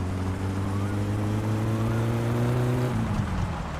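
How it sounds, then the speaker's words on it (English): A car in the video game My Summer Car, running with a slipping clutch, gives a steady droning engine tone rich in harmonics that suddenly drops and wavers near the end. "The clutch is slipping."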